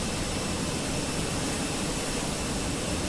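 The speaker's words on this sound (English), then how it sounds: "That APU is running." Aircraft auxiliary power unit running on an airport apron beside a parked plane, a steady, loud turbine roar and broadband hiss holding unbroken throughout, with no voices.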